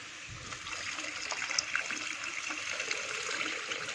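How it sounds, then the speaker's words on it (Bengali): Water is poured during home cooking, a quiet, continuous trickle and splash that runs steadily for a few seconds with no talk. "একটু ঢেলে দে, জলটা ঢেলে দে।"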